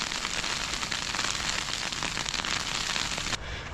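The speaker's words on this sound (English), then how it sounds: "Hail and high winds." Hail and high winds batter a tent during a mountain storm, a dense, loud crackling patter of impacts that continues without pause and eases only slightly near the end.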